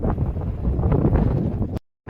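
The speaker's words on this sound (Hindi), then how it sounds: "पर तेज हवा चलनी शुरू हो गई है।" Strong wind gusts across the snowy Rohtang Pass in Himachal Pradesh, a steady loud roar buffeting the microphone for nearly two seconds before cutting off briefly.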